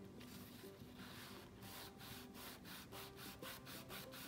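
Glued paper is burnished in a craft booklet with a run of close, soft rhythmic rubbing strokes, each a brief scrape, repeated steadily and faintly with no talking.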